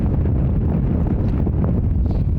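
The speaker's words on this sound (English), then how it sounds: "But the wind is really picking up." Strong wind buffets the microphone on a remote, cold Nordic island off Sweden by an ice-cold sea, a loud, steady roar of gusts with no voices.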